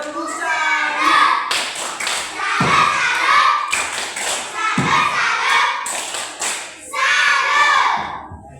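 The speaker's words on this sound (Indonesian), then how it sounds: "Tepuk salat untuk kalian dan teman." Children in a primary-school science lesson on the five senses perform the 'tepuk salat' clap chant: several bursts of hand claps and thumps keep a steady rhythm, mixed with chanting voices, close and loud.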